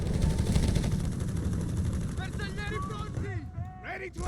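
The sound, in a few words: machine gun firing at lighthouse, Company of Heroes 3 video game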